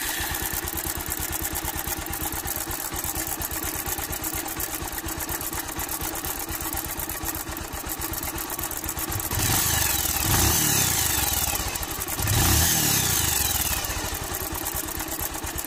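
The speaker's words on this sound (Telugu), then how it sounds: "ఇప్పుడు టైమింగ్ చైన్ సౌండ్ అనేది విన్నారు కదా" A motorcycle engine idles with a steady rapid mechanical clatter from a noisy timing chain, then revs up twice in swelling bursts before settling back, close and loud with no talking.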